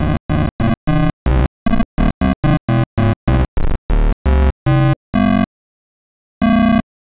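A free modulation plugin set to a grinding effect processes a series of short synth notes, giving them a distorted, warbling tone. About fifteen quick stabs play in an uneven rhythm, then a pause, then one last note.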